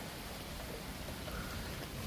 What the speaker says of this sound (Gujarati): અચાનક પાછો વરસાદ શરૂ થઈ ગયો છે